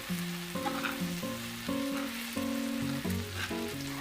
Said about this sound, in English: And now we need continuing stir, do not stop, allowing all the scallions coated with meat.